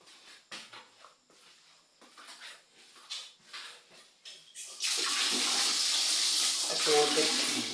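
Cold water from a tap gushes into a bathroom basin or tub for bathing at an overnight swimming spot. A loud, steady stream begins midway, after soft shuffling sounds and quiet voices.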